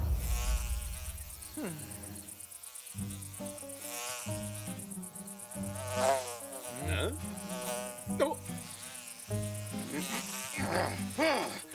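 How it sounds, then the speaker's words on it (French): A fly buzzes around in an animated Zorro adventure, its whining drone swooping in and out over background music, with a voice briefly reacting. "Le premier qui réussira à attraper cette mouche aura droit à un repas complet offert par les autres."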